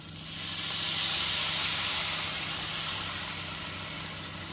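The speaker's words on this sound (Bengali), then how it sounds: "দিয়ে অল্প পরিমাণে জল দিতে হবে" Water poured into a pan of cooking vegetables sets off a loud, steady hiss of sizzling steam that swells quickly and then slowly tapers, with no talking.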